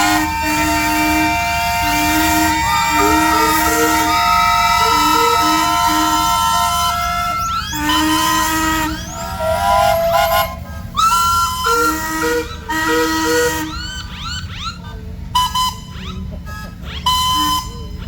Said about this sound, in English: start the whistle going.